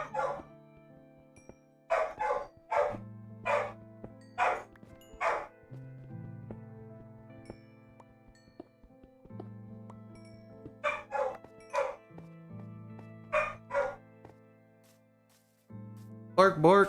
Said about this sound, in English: Yep, she is barking.